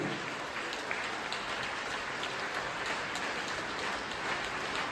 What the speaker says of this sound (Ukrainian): Фольклорний колектив Іршава, ваші овації